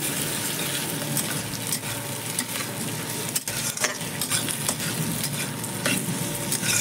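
Chopped ginger and garlic are stirred into meat in a hot frying pan, making a steady sizzle punctuated by repeated scraping strokes of a spoon, close and fairly loud, with no voices.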